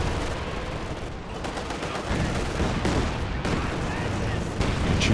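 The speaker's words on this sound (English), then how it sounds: "Chusha Barrage again, another wipe" A Katyusha rocket barrage in a Company of Heroes 2 two-versus-two match pounds out a dense, continuous roar of crackling blasts and impacts, loud and unbroken from start to finish.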